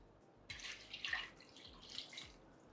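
Water is poured into a casserole dish for a chicken and dressing casserole, a soft splashing and trickling that swells in a couple of surges and fades, fairly faint and close with no talking.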